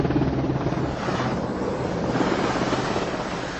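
A Royal Navy helicopter gives off a steady, dense roar with rushing wind noise, continuous and fairly loud throughout.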